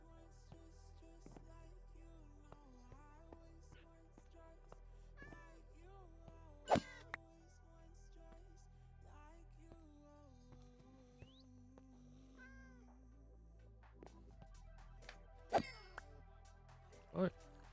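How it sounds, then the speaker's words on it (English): Cats meowing somewhere inside a house in a Minecraft survival multiplayer world, probably more than one, with repeated wavering calls over steady background game music and a few sharper knocks. "Don't know where that cat's coming from. Is it upstairs? It sounds as if there's two of them."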